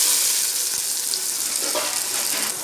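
Onions frying in hot oil in a kadai while making gobi manchurian, a steady close hiss of sizzling with a few faint stirring touches, moderately quiet.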